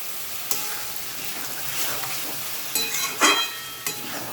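Chicken with plenty of yogurt being sautéed and stirred in a pan, a close steady sizzle with several sharp spatula scrapes and knocks, no talk.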